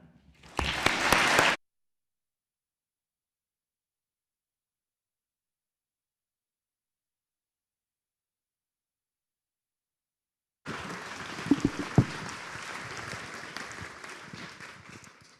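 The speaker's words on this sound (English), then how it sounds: "I'd like for you to have a massive round of applause" An event audience applauds as speakers take the stage, a short burst of clapping that cuts to silence, then returns as sustained, full applause with a few louder claps.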